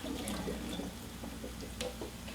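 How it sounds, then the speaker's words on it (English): Water runs and splashes while a bowl used for salted eggplant is rinsed out, a steady close wash with small drips and clinks, no voices. "rinse out your bowl, because you're going to have some salty eggplant juice in there that might not be so tasty"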